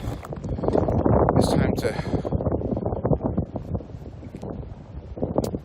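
Wind gusts buffet the microphone on a cold mountain hiking trail, rumbling in uneven bursts beneath someone speaking close by, with footsteps and rustling of gear.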